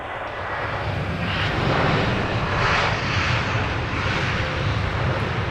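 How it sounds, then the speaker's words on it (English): A Malaysian Airlines A350 climbs out from Heathrow's southern runway, its engines giving a continuous, fairly loud rumbling roar that rises and holds throughout, heard without any voices. "Beautiful Malaysian A350 climbing out from the southern runway."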